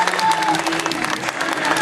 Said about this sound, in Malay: tepukan gemuruh untuk mereka.